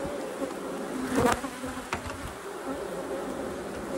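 Honey bees buzz steadily around an opened hive in a bee yard, agitated and swarming a black cup, a close, continuous drone with louder passes near the microphone.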